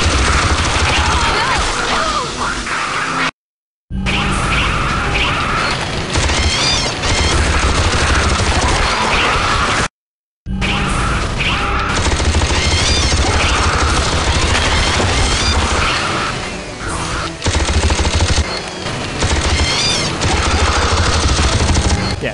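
A mounted gun fires in continuous, loud automatic bursts in the AVP2: Primal Hunt video game, broken by two brief gaps of silence.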